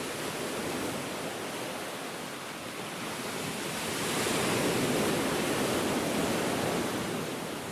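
Stormy ocean waves and strong wind in the Flowscape game form a dense, continuous roar of surf that swells louder halfway through, with no voices.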